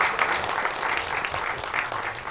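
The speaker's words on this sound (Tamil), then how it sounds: "ஒரு பெரிய கைத்தட்டலோட மேடை கலைக்கிறோம்" A crowd at an album song screening festival applauds as a music composer is welcomed on stage, dense sustained clapping filling the hall at an even level from start to finish.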